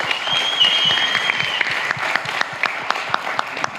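A conference audience applauds a panel with sustained, dense clapping that fills the room, loud and steady throughout, with a few louder individual claps standing out near the end.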